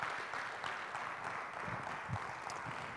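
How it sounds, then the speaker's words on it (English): A school talent show audience gives sustained applause, a continuous even wash of many hands clapping with no break, moderately loud and somewhat distant. "let's have a big round of applause for the whole production staff"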